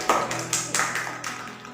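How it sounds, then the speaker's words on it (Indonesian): Children in a grade 4 classroom clap their hands in a short round, the claps coming as a few bunched bursts, fairly close and moderately loud, with a low steady hum underneath. "Tepuk tangan"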